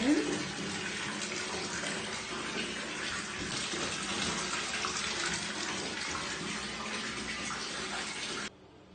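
Water running steadily in a bathtub used for washing dogs, a continuous hissing rush at close range that cuts off near the end.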